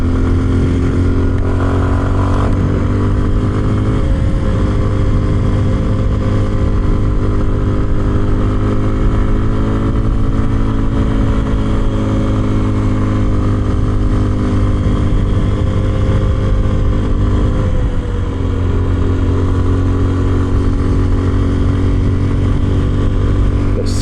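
A small Kawasaki KLX 230 Sherpa S motorcycle engine drones steadily up close for the whole stretch, with a couple of brief dips and shifts in revs, under rushing wind noise.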